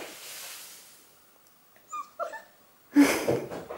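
A puppy whimpers and yips in short, faint bursts near the microphone, with quiet breathing between cries and a louder rustle toward the end.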